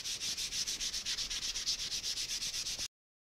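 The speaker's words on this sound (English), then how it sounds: "I'm gonna sand up the back here just to take out any little nicks or blemishes or whatever" Sandpaper of 150 grit rubbing along the back of a wooden board bow in quick, even back-and-forth strokes, close up and steady for about three seconds before cutting off.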